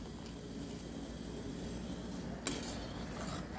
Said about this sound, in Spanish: Removemos hasta que se diluya la sal.